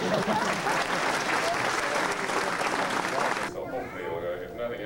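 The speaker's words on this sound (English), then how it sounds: "How about a round of applause for Andrew?" Wedding guests applaud loudly and steadily as a crowd for about three and a half seconds, then the clapping cuts off abruptly and is followed by quieter sounds.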